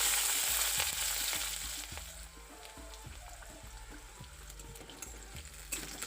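Sliced and chopped onion with green chilies frying in very hot oil in a heated wok, a loud hiss settling into a steady sizzle with faint scraping knocks throughout.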